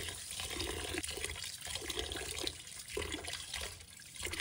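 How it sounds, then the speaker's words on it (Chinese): Water is poured over rice and the grains are rinsed, a soft continuous sloshing and trickling with rhythmic swirling surges, fairly quiet and with no voices. "重新加水，再度淘洗。"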